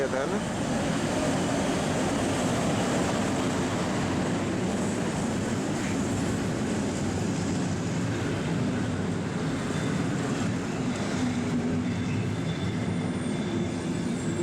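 An EP08 electric locomotive train pulling into a station track beside a platform, giving a steady loud rumble of wheels and rail noise with faint squeals; a voice talks over it throughout.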